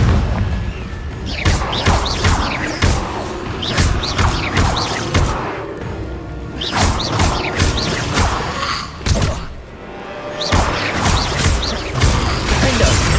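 Confringo blasting spell in Hogwarts Legacy, a rapid series of booming explosions and crashing impacts repeating every second or so, loud and close, with rumbling debris between blasts.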